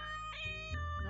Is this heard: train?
no